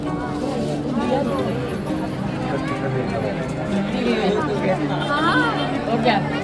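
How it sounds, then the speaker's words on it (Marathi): Crowd chatter in a packed queue at the Pandharpur Vitthal temple, many overlapping nearby voices forming a constant, busy hubbub with occasional louder calls. "गर्दी भरपूर आहे"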